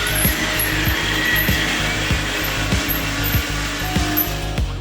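A cheap Walmart cordless lithium-ion screwdriver drives against a stuck screw while working on a golf cart, its motor whirring steadily with a regular ratcheting click repeating about every half second throughout, close and fairly loud.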